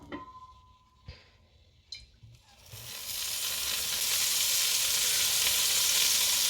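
A few clicks and taps of a pan are followed by olive oil poured into a hot pan with burnt sauce on the bottom, bursting into a loud, sustained sizzle that continues to the end.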